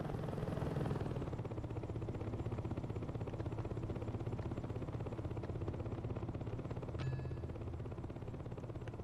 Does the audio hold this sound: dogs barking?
no